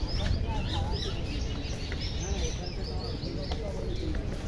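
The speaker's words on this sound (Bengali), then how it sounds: "পাখির ডাক চারদিকে" Birds chirp and call repeatedly beside the Sabarmati river at Gandhi Ashram in Ahmedabad. Short, scattered tweets rise over a low, rumbling outdoor background with some distant human murmur.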